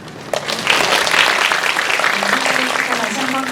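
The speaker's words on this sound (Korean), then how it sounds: "다시 한번 큰 박수 부탁드립니다." An audience at a film screening Q&A with the director and cast breaks into loud, steady applause that swells and holds for several seconds, with voices faintly underneath.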